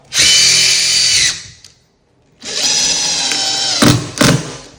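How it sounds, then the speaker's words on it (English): A Makita oscillating saw cutting a hardwood floor board, a loud, close, high buzzing whine in two runs with a short pause between, the second run punctuated by a couple of sharp knocks. "this is gonna be my guide for my Makita oscillation saw"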